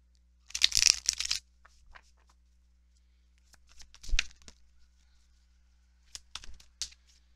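Tarot cards being shuffled for a card reading, heard as three separate riffling bursts, brisk and close, with quiet pauses between them.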